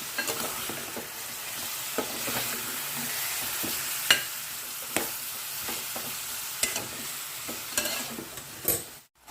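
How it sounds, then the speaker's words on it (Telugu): Tomatoes and ginger-garlic paste being stirred in a pan for a home-style chicken curry, a steady sizzle with scattered spoon scrapes and clinks throughout, close and moderately loud, no voices. "టొమాటోస్ అదేవిధంగా అల్లం వెల్లుల్లి పేస్ట్ కూడా వేసేసాను అంతటిని ఒకసారి మిక్స్ చేసుకుందాం"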